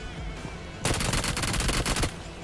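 Burst of automatic gunfire in the battle royale game BGMI/PUBG, a loud rapid volley of shots lasting about a second after a quieter lead-in of game ambience.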